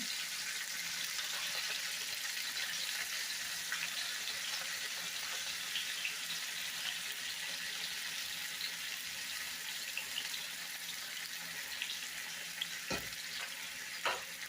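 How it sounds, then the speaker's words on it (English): A steady, dense sizzle of potatoes frying in a hot pan, continuous throughout with a few faint clicks and a soft knock near the end. "Put our potatoes in there. Let them start frying."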